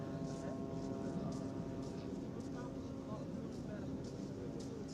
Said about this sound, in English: The droning noise is the drone.